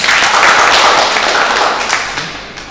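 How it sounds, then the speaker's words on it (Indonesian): A room of people claps for senate members at a college chair election meeting, a loud burst of dense applause that starts at full strength and gradually tapers off. "Tepuk tangan pada anggota senat."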